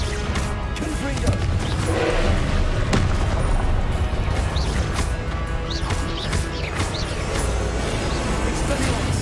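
Dense spell combat in Hogwarts Legacy with a Confringo blasting spell, continuous loud crashing and booming impacts layered over busy battle noise, with voices mixed in throughout.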